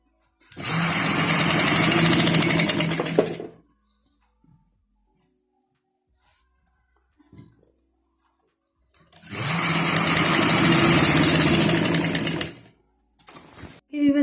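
A sewing machine stitches elastic into the waistband of trousers, running in two long, steady, loud bursts separated by a quiet pause, with a few faint handling clicks between and after.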